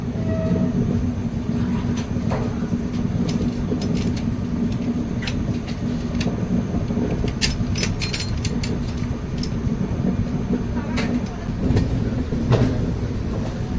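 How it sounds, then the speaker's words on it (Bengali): The Howrah–Dibrugarh Kamrup Express rolls slowly around a curve into NJP station, a steady low rumble of wheels and carriages with sharp flange squeals and clicks scattered throughout, close and continuous, no speech. "ট্রেন ভীষণ সুন্দর একটা কার্ভ নিয়ে ধীরে ধীরে এনজিবি স্টেশন এন্টার করছে"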